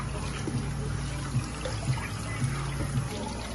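Tap water runs steadily while fish is washed and cleaned for a seafood boil, a continuous trickle with faint speech-like murmurs and occasional soft splashes underneath.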